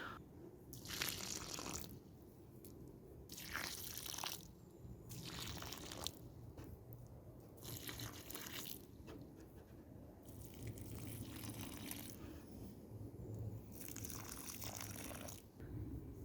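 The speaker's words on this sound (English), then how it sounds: "I'm going to give these a water with the spout rather than the rose of the watering can" Water poured from the spout of a watering can onto damp soil in planting holes at an allotment plot, arriving in several separate gushing bursts a few seconds apart over a soft outdoor background.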